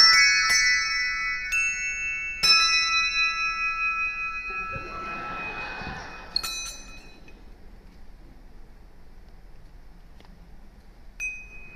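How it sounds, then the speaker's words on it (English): A soloist rings handbells four-in-hand at a concert, producing sustained bright chimes with several clear strikes that ring and decay, a few overlapping tones, and later sparse isolated dings. "one bell's going this way and one bell's going that way. So it allows you to ring them independently."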